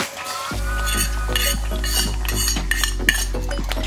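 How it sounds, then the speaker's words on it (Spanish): Thick corn flour sango is stirred in a pot, a utensil scraping and knocking against the metal in a steady rhythmic series of strokes over a constant low hum, close and clear, with no talk. "Seguimos revolviendo hasta que espese muy bien."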